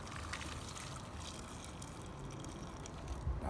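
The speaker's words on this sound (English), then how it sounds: "Take a pot with 3 sticks of butter and just pour the broth right in there." Crawfish broth poured into a pot holding three sticks of butter in a backyard cooking setup: a faint, continuous splashing and trickling stream with a slight gurgle near the end.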